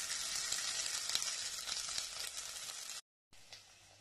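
Tofu sautéing in a hot pan gives a steady, bright sizzle with faint stirring scrapes, which cuts out briefly near the end and then resumes more quietly.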